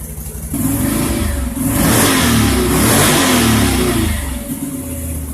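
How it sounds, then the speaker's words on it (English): A Can-Am Outlander 570 ATV engine runs after a shifter adjustment, idling briefly and then revving up loud and close, rising and falling in pitch before settling back down. "you can already tell that at idle it's quieter because the shifter came out of adjustment from the factory"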